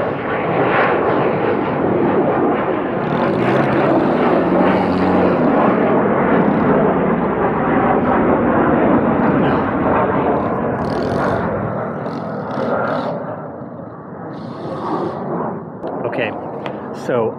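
A jet airplane passes overhead, filling the scene with a loud, steady, broad roar that holds strongly for about ten seconds and then eases off a little, with faint clicks and handling noises near the end.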